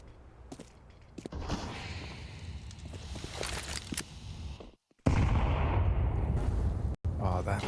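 A grenade goes off in Counter-Strike 2 during a competitive esports match, as a loud, heavy burst that cuts in sharply and sustains amid ongoing gunfire and commentary.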